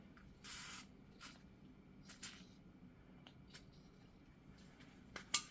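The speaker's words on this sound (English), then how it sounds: "So we are going to spray some WD." Short hissing bursts of WD-40 aerosol sprayed onto a seized hub wheel bearing, several separate squirts of varying length, close and fairly quiet, ending with a sharp metallic click.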